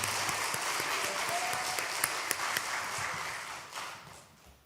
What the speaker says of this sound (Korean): 박수로 또 격려하겠습니다.